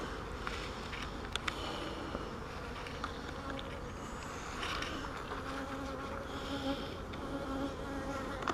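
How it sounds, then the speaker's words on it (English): Dense, steady buzzing of many honey bees inside a hive fills the scene, a continuous close drone with individual insects flitting past now and then. "There are a whole lot less bees in here than there was."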